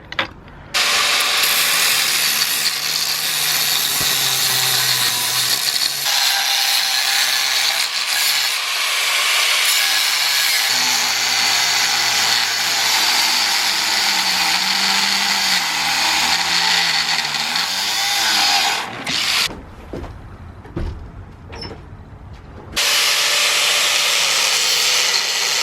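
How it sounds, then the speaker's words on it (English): Grinding on a Skunk2 lower control arm held underfoot at a work station, a steady loud abrasive whine running almost continuously for about twenty seconds, briefly dropping out near the end before resuming. "Pretty much just gonna step on this like that, and then grind away like this."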